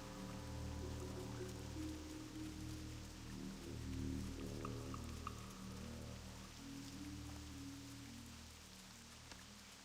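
Steady rain falling in the Feralas zone of World of Warcraft, a constant even patter with a low game-music drone beneath, no talking.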